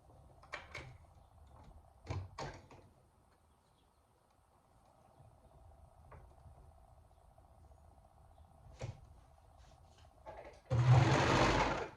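A sewing machine stitches stretch fabric for a bodysuit in short, quiet runs broken by pauses. It ends in a louder, steady burst of stitching, close up with no talk.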